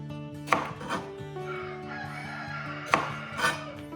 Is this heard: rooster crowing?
yes